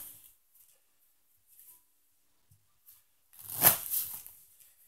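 A deck of playing cards gets shuffled once, a quick close riffling burst lasting about a second amid near silence, with a few faint handling ticks before it.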